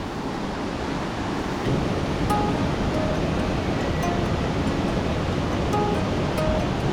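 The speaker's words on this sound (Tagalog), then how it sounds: "lakas ng agos oh" A steady, powerful roar of the fast-flowing Tinipak River in Tanay, Rizal, after rain, filling the scene, a dense continuous rush with no pauses.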